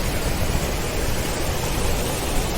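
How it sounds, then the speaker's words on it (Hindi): Mountain waterfall and rushing stream on the Kheerganga trek near Kasol, Himachal Pradesh, roaring as a steady, dense broadband wash of water with no voices over it. "ये देखिए ये जा रही जल की धारा। ये देखिए इस वाटरफॉल का नजारा"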